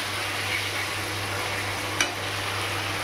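Banana flower curry (mocha) stir-fries in oil, giving a soft, steady sizzling hiss with a single faint scrape partway through.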